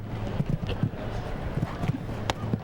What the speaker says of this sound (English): Watch this horse jump.